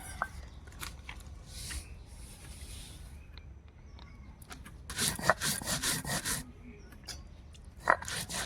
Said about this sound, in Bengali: এবার আমি সর্ষে পোস্ত বেটে নেব।